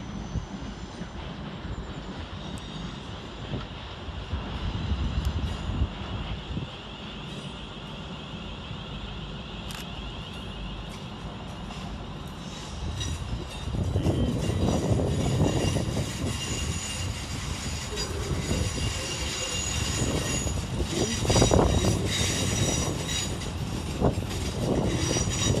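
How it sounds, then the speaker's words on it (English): East Midlands Railway Class 360 units 360-101 and 360-114, running in from Corby to terminate at London St Pancras, rumble close and steady, with wheel noise and squeal swelling louder in the second half. "Arriving to terminate with an East Midlands Railway service off Corby is 360-101 and"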